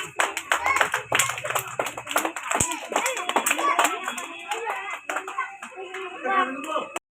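Brisk claps from a group of young kindergarten children ring out in quick, irregular patter, mixed with kids' voices and an adult speaking nearby.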